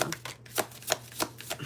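Tarot cards being shuffled by hand, a run of crisp riffling bursts and soft slaps coming in an uneven rhythm, close and fairly quiet over a faint low hum.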